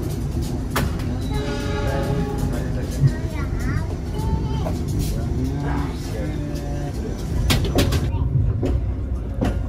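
The Rajabasa passenger train rumbles along steadily with low, continuous mechanical noise, short bursts and squealing tones rising over it as it slows into Kertapati station, Palembang, with people talking in the background.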